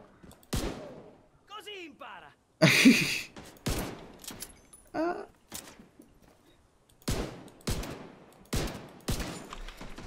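Gunfire from The Division 2 video game comes in sharp, separate bursts and single cracks spread across the stretch, loud and close, with short quiet gaps between shots.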